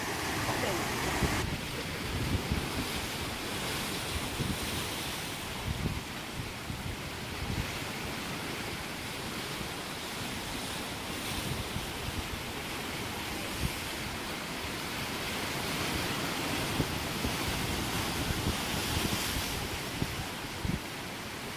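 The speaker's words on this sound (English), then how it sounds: "The waves here crashing in are just pretty neat." Ocean waves crashing in along Maui's Hana Road, a continuous broad wash of surf with wind buffeting the microphone, steady and moderately loud with no voices.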